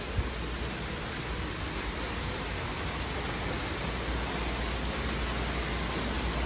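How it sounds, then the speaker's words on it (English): A waterfall at the Bass Pro Shops in Kodak, Tennessee: a steady, loud broadband rush of falling water that holds constant throughout with no pauses, no talk, and no other sounds rising above it. "check this waterfall out."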